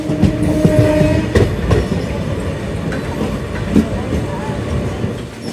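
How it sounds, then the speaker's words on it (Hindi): Sherghat Express, a Howrah-to-Guwahati passenger train, passes through Bardhaman station, heard as a continuous low rumble with scattered clanks and metallic knocks, moderately loud and steady throughout. "वहाँ सामने एक ट्रेन निकल रही है वर्धमान से।"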